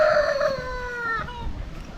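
Squeaker toy chicken giving a long, wheezy, crow-like squeal that slides downward and fades, loud and close over a rough background rumble in an off-grid house.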